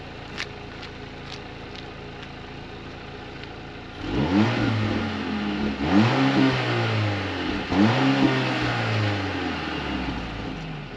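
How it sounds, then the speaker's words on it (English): A 2024 Mercedes-Benz CLA 250 4Matic idles quietly, then the exhaust revs up three times in rising, rumbling surges, each falling back between pulls. "Yeah, not really a great exhaust note."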